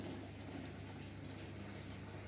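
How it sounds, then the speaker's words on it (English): An electric pump steadily draining water out of a fish tank, giving a continuous low, even gush and hum with no pauses, fairly faint and heard alone. "Plugging it in, and letting the motor take water out."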